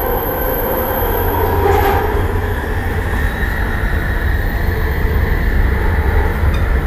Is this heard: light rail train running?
yes